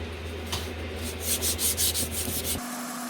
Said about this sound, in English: A little bit of corrosion build up on the shaft here, so we're just going to give it a quick lap in.